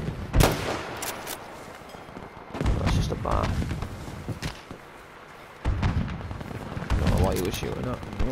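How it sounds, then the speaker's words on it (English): Gunfire in a sniping video game, with sharp shots and thumps scattered across the clip, some close and loud, while someone talks over them. "Shooting at me."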